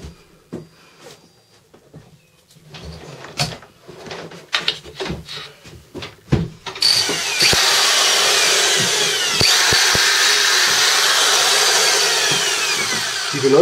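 Scattered clicks and handling noises, then an electric drill starts and runs steadily, whining as it bores through metal for a solar panel frame.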